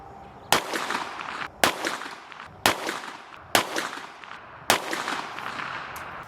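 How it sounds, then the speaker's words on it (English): Five pistol shots of 124 grain Gold Dot ammunition fired from a bench rest at 25 yards, sharp loud reports spaced about a second apart, each trailing off in a short outdoor echo, no talking. "I fired another 5-round group, bench rest supported, from 25 yards, shooting the same ammunition"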